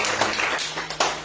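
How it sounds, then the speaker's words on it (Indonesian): Brief church congregation clapping during a sermon, a short run of loud, sharp claps with a few distinct strong hits over about a second. "Berikan tepuk tangan"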